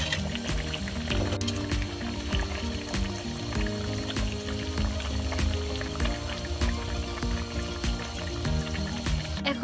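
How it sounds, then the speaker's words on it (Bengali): Water poured into a pan of cauliflower, potato and tomato fish curry, a steady liquid stream and bubbling that runs without a break, close and moderately loud. "এখন আমি এখানে পানি ঢেলে দিচ্ছি।"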